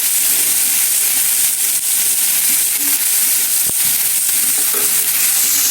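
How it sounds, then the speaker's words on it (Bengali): Katkati fish frying in a pan as the pieces are turned over, a steady loud hiss and sizzle of hot oil with a faint clink of the utensil partway through. "এই যে মাছগুলো সুন্দরভাবে উল্টিয়ে দিলাম।"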